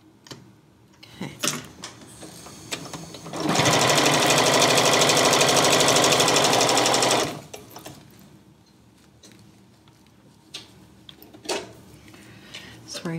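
A sewing machine stitching a vinyl project bag runs in one loud, steady rapid-needle burst of about four seconds, framed by quiet handling clicks and brief speech.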